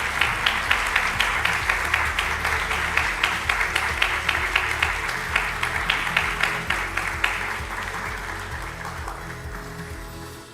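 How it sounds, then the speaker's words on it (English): Forum audience at the World Knowledge Forum gives steady applause for a panel, many hands clapping evenly before thinning and fading away near the end. "Let's give a big round of applause."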